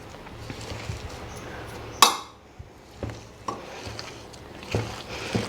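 Red chillies going into a pan for a red chilli and brinjal pickle and being stirred, with one sharp clatter followed by softer scraping and knocks of a utensil against the pan.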